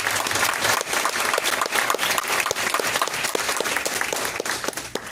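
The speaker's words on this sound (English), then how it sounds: "Let's give them all one more round of applause." An audience applauds loudly and steadily at a Board of Education candidates' meet and greet, dense clapping filling the whole stretch without a break.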